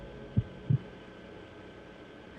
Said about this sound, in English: That sounds like a heartbeat.